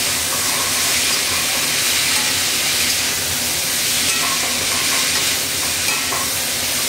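Steady, loud sizzling hiss of frying in a pan for a light egg curry, continuous and close with faint stirring underneath.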